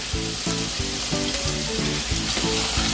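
Garlic for shrimp sizzles steadily in a hot pan, a continuous close hiss running unbroken through the short stretch with no one talking.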